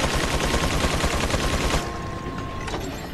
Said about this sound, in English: Just basically follow the sounds of Gatling guns.